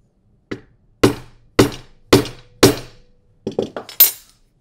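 A hammer domes the back of a copper rivet set in leather: five sharp, evenly spaced hard taps, then a quicker burst of four lighter and heavier strikes, each ringing briefly, close up and loud.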